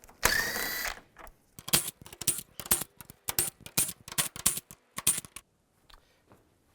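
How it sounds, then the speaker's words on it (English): A 10mm socket ratchet backs out bolts while removing parking aid sensors on a 2015-2020 Cadillac Escalade, giving a close series of quick clicking bursts separated by short pauses. "And we're going to take these 10mm bolts out."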